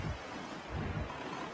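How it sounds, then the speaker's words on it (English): Stormy weather in The Legend of Zelda: The Wind Waker, with a steady wash of rain and rolling ocean surf, plus low rumbling swells. Continuous and moderately quiet, with no talking. "You gotta start raining now?"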